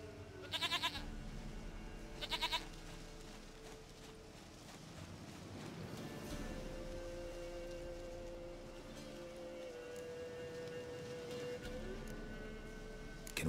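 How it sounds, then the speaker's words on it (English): Goat bleats in The Witcher 3 come as two short, nasal calls early on, followed by a quieter stretch of steady game ambience resembling light rain. "Goat of mine, dearest, sweetest goat."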